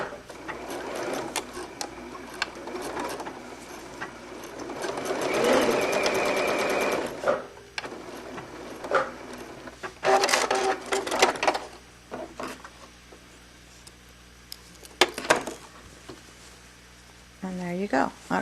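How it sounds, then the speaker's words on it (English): A sewing machine runs in straight-stitch bursts to close an elastic casing, with rapid rattling runs between pauses and handling clicks, close and moderately loud, while someone talks in between. "Put my machine back on the straight stitch, and I'm just going to go back under here and close up this hole that I made."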